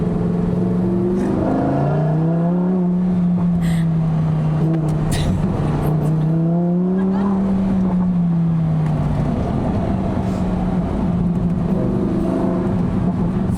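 A Lamborghini's engine drones steadily from inside the moving car, its pitch rising and falling through shifts and throttle changes under constant road and wind roar, with no talking.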